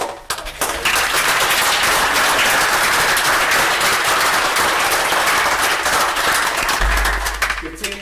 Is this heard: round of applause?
yes